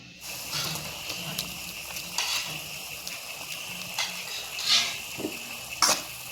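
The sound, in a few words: frying ground masala spices in oil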